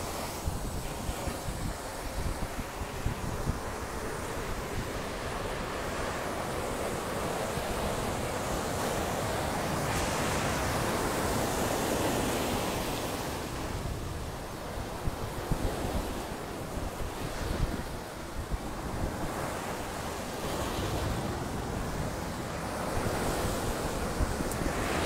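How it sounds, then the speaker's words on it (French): Ocean waves surge and wash steadily along a shore for the whole stretch, with gusty wind buffeting the microphone and no voices heard. "là il y a le bruit des vagues en plus."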